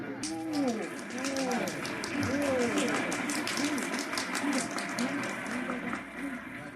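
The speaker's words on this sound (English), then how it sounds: "this is a happy, laughing crowd along Fifth Avenue today" Cheerful parade crowd along Fifth Avenue on an old radio broadcast, a broad murmur of many voices with laughter and scattered cheers rolling continuously at moderate distance.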